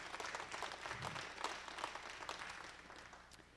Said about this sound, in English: a round of applause for you guys